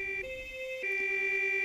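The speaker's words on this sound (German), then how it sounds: "Was geht in Ihrem Kopf vor, wenn ein Krankenwagen direkt bei Ihnen vorbeifährt?" An ambulance siren wails close by in a steady two-tone pattern, switching pitch a few times across a short, loud stretch with no voices.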